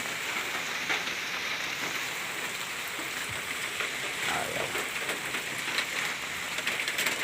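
Steady rain patters on surfaces outdoors, a dense even hiss with scattered drops, continuous and moderately loud with no talk over it.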